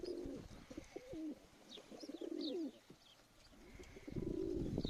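Racing pigeons cooing nearby in a loft, several low, throaty rolling coos in bursts, with faint higher bird chirps in the background.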